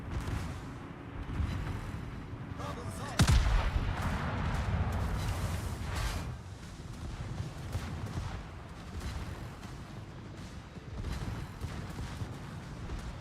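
Naval guns on a warship fire in World of Warships, one heavy booming salvo standing out amid a continuous rumbling battle soundscape.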